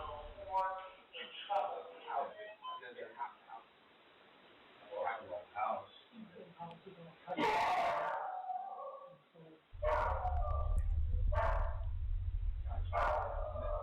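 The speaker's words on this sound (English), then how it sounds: "Get the dog going crazy." Dog barking excitedly indoors, several sharp, loud barks in quick bursts in the second half, following stretches of a person talking, with a low hum underneath.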